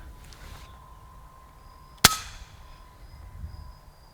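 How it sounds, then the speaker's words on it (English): A single sharp crack from an FX Impact M3 Compact air rifle fitted with a moderator, firing an 18 grain JSB pellet, stands out once against quiet background hum and fades quickly. "So this is the second gun, the Impact Compact M3, shooting 18 grain JSB pellets"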